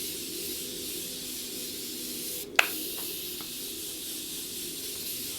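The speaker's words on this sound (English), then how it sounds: "Gonna go ahead and melt everything together using this Morphe Continuous Setting Mist." Morphe Continuous Setting Mist sprays onto a face in one continuous, steady fine hiss lasting several seconds, close and soft, with a single small click partway through.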